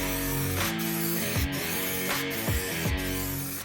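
Black paint sprayed onto a Vauxhall Corsa headlining, a steady broadband hiss broken by several short bursts and pauses, close and fairly loud with no voices.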